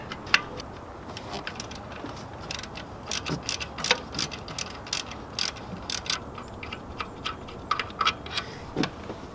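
A ratchet working an alternator mounting bolt loose on a GM 3400 V6, giving quick irregular bursts of small metallic clicks over a steady background hiss, close by and without talk.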